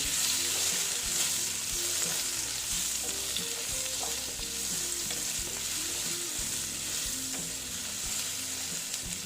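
Potatoes frying with turmeric in a pan for a yard-long bean dish, a steady loud sizzle running throughout with repeated scraping strokes of a spatula stirring, close and continuous with no voices.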